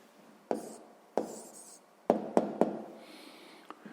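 A pen writes an answer by hand on paper, heard as several sharp taps and short scratching strokes, quiet and close, with pauses between them.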